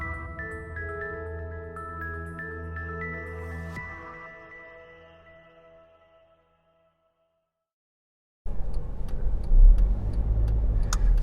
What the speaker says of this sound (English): So let's get driving and let's get entering the motorways.